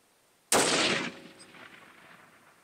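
A single loud 7mm PRC rifle shot fired at a target 1,033 yards away outdoors, a sharp blast followed by about half a second of roar and a long fading echo.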